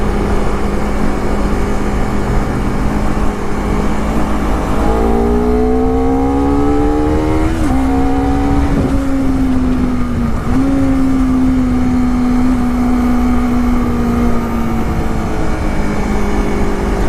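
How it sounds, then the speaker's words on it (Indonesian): A Honda CBR 250RR motorcycle on its stock exhaust revs up and holds a dense, steady engine note, loud and close, with the pitch rising, dipping and rising again over continuous wind and road noise. "Sebenarnya knalpot bawaannya enak loh."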